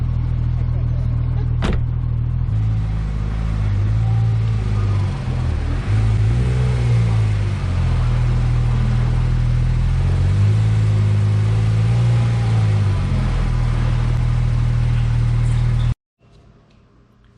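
A Porsche 991.2 GT3 RS engine running loud and close, a deep steady drone that rises and dips with throttle, with a sharp click near the start and a sudden cut-off at the end.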